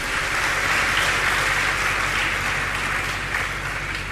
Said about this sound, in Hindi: ताली बजा लो अपने लिए।